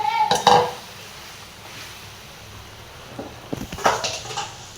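Boiled potatoes are tipped into a pan of chutney for vada pav filling, with a clatter of metal utensils against the pan, then a quiet pause and more clinks and scraping toward the end.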